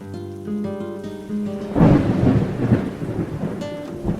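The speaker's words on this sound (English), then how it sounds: "The sound of thunder rolled through the house" Thunder rolls through a house during a rainstorm, a deep rumble rising out of soft music and steady rain, loud and sustained for a couple of seconds before fading under the downpour.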